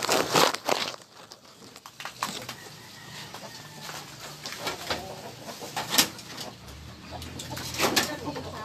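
Pet backyard chickens eating organic feed cluck softly and peck around close by, with scattered sharp pecks and rustling, and faint voices in the background.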